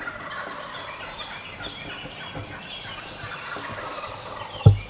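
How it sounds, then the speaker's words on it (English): Wild turkeys gobble repeatedly outdoors at a middle distance, with overlapping rattling calls from several birds and a sharp thump near the end. "I hope you guys can hear the turkeys."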